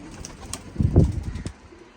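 Pigeons, young birds kept with a flock, give a short low cooing call lasting under a second, close and moderately loud over quiet background.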